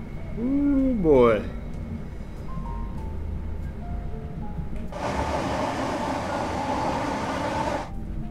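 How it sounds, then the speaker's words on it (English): A British Rail Class 465 electric train rumbles through a tunnel in Train Sim World 3, with a steady low drone and a burst of loud broadband roar partway through, after a brief rising tonal whine near the start. "Train coming through a tunnel."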